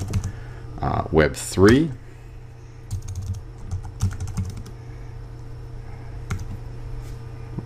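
Computer keyboard typing, brief clusters of light clicking keystrokes after a short spoken phrase, close and fairly quiet against a faint background hum.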